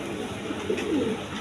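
A pair of Danish pigeons gives soft, close cooing in a short burst, with low throaty notes rising gently over a steady background hum.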